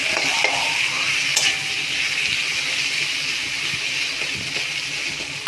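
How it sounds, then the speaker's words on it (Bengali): Spinach leaves tipped into hot oil in a frying pan and stirred for a vegetarian curry, producing a loud, continuous close-up sizzle with a brief rustling clatter near the start. "এর মধ্যে আমি পালং শাকগুলো দিয়ে দেবো।"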